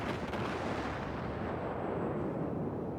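Heavy naval gunfire from an enemy warship in World of Warships rolls in as a dense, continuous wall of booming, rumbling blasts, loud and unbroken, with no voices.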